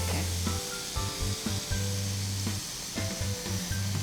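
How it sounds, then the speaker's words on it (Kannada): Skewered mushrooms sizzle steadily on a hot grill pan while being brushed with coriander and mint paste, a constant close hiss with soft scraping and handling noises layered over it. "ನಾವಿಲ್ಲಿ ಸ್ಕೀವರ್ನಲ್ಲಿ ಸುರಿದಂತಹ ಮಶ್ರೂಮನ್ನು ಗ್ರಿಲ್ ಪ್ಯಾನಲ್ಲಿ ಇಟ್ಟು ಫ್ರೈ ಮಾಡ್ತಾ ಇದ್ದೀವಿ"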